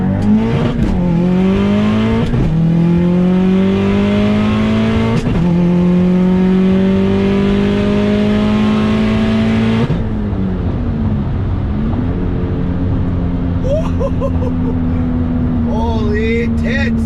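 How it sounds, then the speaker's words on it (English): A 500 HP Subaru STI pulls hard through the gears, engine revs climbing and dropping at each shift with a sharp break around midway, loud and close from inside the car, followed by a steadier lower drone. "That 1 to 2 shift hits you like a truck."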